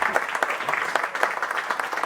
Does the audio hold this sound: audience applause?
yes